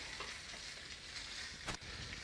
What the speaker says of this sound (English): These oysters, I can hear them starting to sizzle.